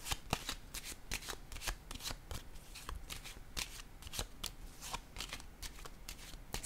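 Tarot cards being shuffled in a quick, steady run of crisp riffling slaps and flutters, close and fairly quiet, with no voices.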